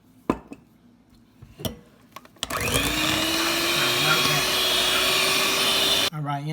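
An electric blender whirs loudly and steadily for several seconds, mixing elderberry jelly into a cream cheese filling for a Mardi Gras king cake, after a few quiet knocks and clatters of kitchen handling.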